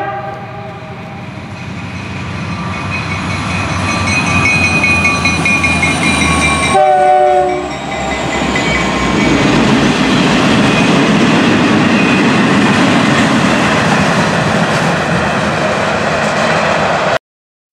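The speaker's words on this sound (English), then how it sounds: "a pair of SD40s arriving off the White River sub from a work train." A pair of SD40 locomotives rolls in with a work train off the White River subdivision in autumn, a loud steady rumble with horn-like tonal blasts early on and a brief dip midway before the engines and cars resume their continuous roar.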